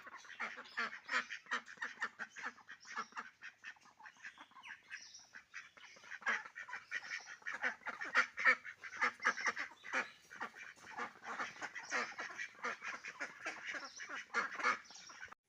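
Ducks calling continuously, a flock of quacks and honks overlapping in rapid, uneven bursts, moderately close.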